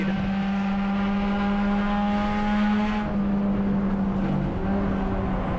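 Race cars in a Hornets-class event at Tucson Speedway roar down the straightaway with a steady, loud engine drone that holds on, shifting slightly in pitch as the pack passes.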